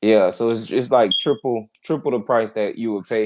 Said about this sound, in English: I'm sorry about that beeping sound, y'all. I think it's this smoke detector.